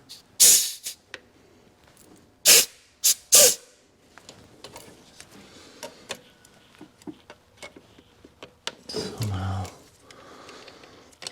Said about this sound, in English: It'd be a little difficult to aim this air compressor in there directly.